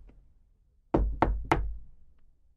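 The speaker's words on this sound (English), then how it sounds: "so I knocked on the door" Three firm knocks on a door, heavy and evenly spaced at close range, with low thuds ringing briefly after each blow against an otherwise quiet room.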